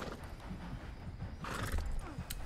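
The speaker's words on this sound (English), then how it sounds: "get on your horse" Horse in the video game Red Dead Online, close by, giving a whinny with hoof clops around it over quiet ambient background.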